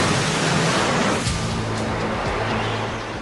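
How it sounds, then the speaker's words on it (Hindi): The Silver Dragon tidal bore surges upriver as a broad, roaring wash of rushing water, loud and continuous with a low rumble beneath, with no voices. "इस बेहद अद्भुत बोर टाइड का नाम सिल्वर ड्रैगन पड़ा"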